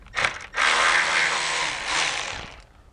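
A ratchet works the T25 bolt holding the radiator on a BMW E46, giving a close, steady mechanical whirring clatter that runs for about two seconds before fading.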